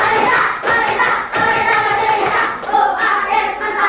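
A group in a classroom coding training session claps back in unison, a burst of close, dense hand claps that runs throughout with small dips in loudness.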